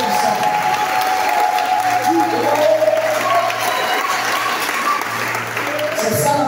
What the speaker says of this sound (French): donner des acclamations au Seigneur